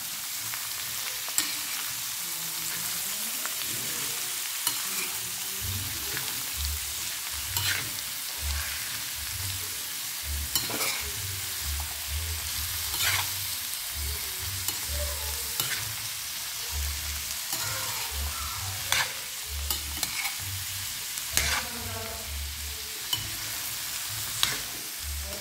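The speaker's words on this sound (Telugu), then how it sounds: "వీటి మొత్తాన్ని మనం ఒకసారి కలుపుకొని" Pieces sizzle and fry steadily in a pan while a utensil stirs and scrapes through them in irregular strokes, close and continuous with no voices.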